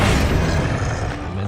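A Bombarda spell goes off as an explosion in the video game Hogwarts Legacy. A loud, dense blast roars through the whole short moment and fades slightly at the end.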